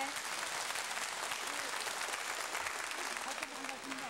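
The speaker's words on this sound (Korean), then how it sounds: "여러분 축하 박수 좀 쳐주세요" Congratulatory applause from a studio audience on a 1983 Korean live television broadcast reuniting separated families, steady and dense throughout, with faint voices and music underneath.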